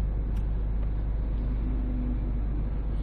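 Steady low engine drone from inside a 2006 Kia Sportage diesel with about 270,000 km on it, accelerating hard: a constant, loud, unbroken rumble with no talk.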